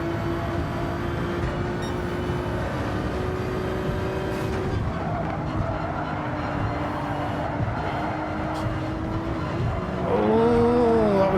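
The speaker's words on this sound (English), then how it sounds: "Why has that Ferrari got so much better acceleration?" Ferrari race car accelerating in a Gran Turismo 7 online race, engine drone rising and falling through gears among other cars, with tire squeal and a sharp rev surge at the end.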